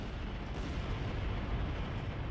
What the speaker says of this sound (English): All the while, more small explosions are going off within Nemo's ship